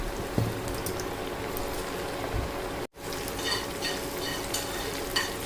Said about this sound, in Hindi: बस ये पीसेस उठाते हैं और हम ये ऑयल में डाल देते हैं। ऑयल आपका एकदम से फुल गर्म होना चाहिए।